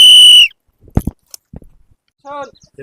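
A whistle is blown once in a long, loud, steady blast that stops abruptly, followed by a few knocks and a brief spoken voice in a village street comedy scene.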